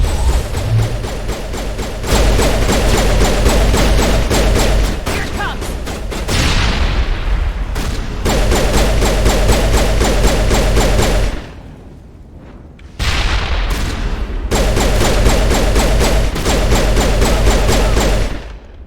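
Dense Mass Effect firefight: continuous rapid gunfire and booming blasts, loud and close, broken by a brief lull before another long burst.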